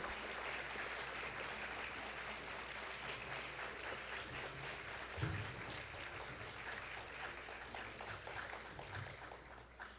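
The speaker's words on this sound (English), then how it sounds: "You can clap, feel free." Audience applause welcomes panelists stepping onto the stage for a discussion on disability representation. It is a steady wash of many hands clapping for about ten seconds, thinning slightly toward the end.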